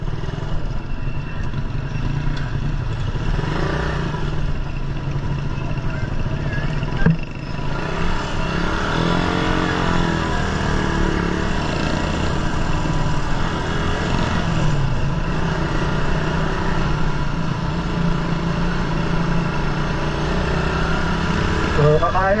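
Old-generation Suzuki Raider 150 motorcycle engine idling steadily and close by, with a brief rev swell midway, running continuously under light background noise.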